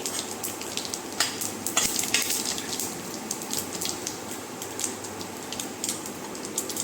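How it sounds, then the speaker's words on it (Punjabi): Cumin and mustard seeds frying in hot oil in a frying pan, giving a steady crackling sizzle with scattered sharp pops throughout, close and fairly quiet, with no talking. "ਤੇਲ ਆਪਾਂ ਧਰ ਲਿਆ ਫਰਾਈ ਪੈਨ 'ਚ ਹਾਂਜੀ ਹੁਣ ਇਹਦੇ ਵਿੱਚ ਆਪਾਂ ਜੀਰਾ ਪਾ ਲਿਆ ਰਾਈ ਪਾ ਲਈ"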